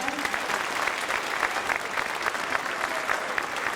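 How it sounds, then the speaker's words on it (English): Steady, dense applause from a school concert audience for the musicians, sustained clapping filling the whole stretch without pause. "Let's give another round of applause to our musicians."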